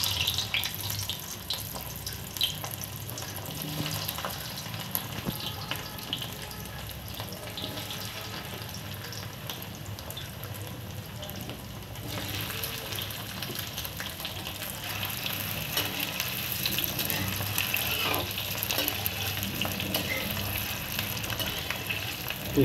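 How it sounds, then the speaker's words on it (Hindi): Potatoes fry in hot mustard oil for aloo dum, a steady watery crackle and hiss that runs unbroken and fairly close throughout, with no voices. "इसके लिए मैंने मस्टर्ड ऑयल डाला हुआ है और ये बिल्कुल गर्म हो चुका है, तो मैं सबसे पहले आलू को फ्राई करता हूँ"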